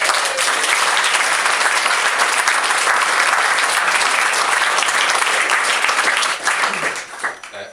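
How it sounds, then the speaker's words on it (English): A wedding reception crowd gives the staff, bar staff and chefs a long, loud, sustained round of applause that fades out in the last second. "so a round of applause for them"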